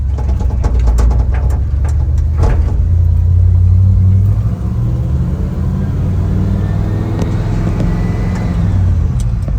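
An IHC C110 pickup truck drives off, its engine rumbling loudly and steadily, revving and dropping as it shifts through the gears.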